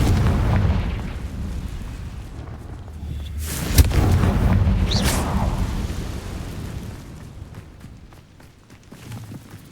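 Confringo blasting spell explosion in Hogwarts Legacy, a single heavy booming burst with a sharp crack, followed by a rumbling tail that slowly fades, with a second softer pop shortly after.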